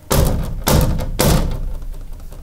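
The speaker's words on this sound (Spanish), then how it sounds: "Se cerró la puerta y además... Se cerró la puerta." A door slams shut inside a house, giving three heavy, close thuds about half a second apart with a short rumble after each.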